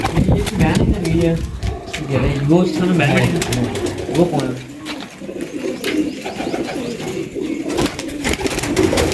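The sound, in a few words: pigeons cooing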